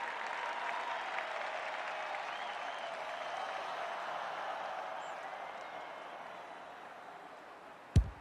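Large stadium crowd roaring at an AFL match between Collingwood and the Brisbane Lions, a broad sustained cheer that slowly fades, ending in a sharp close knock.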